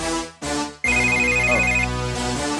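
A phone ringtone plays loud and clear, a sustained electronic melody with a steady high repeating tone, starting abruptly after a brief gap and ringing continuously to the end.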